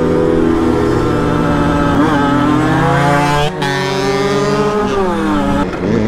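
A small motorbike engine, at a rally alongside 50cc and 125cc bikes such as an Aprilia RS4 50 and a KTM EXC 125, revs hard and continuously with rising and falling pitch, loud and close throughout, with no talk.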